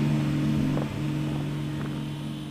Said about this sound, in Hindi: पहले गाड़ी को ऑफ कर लेते हैं, बहुत आवाज कर रहा है